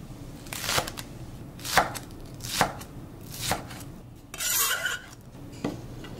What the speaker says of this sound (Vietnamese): Còn phần lá hành thì mình cũng cắt nhỏ ra luôn.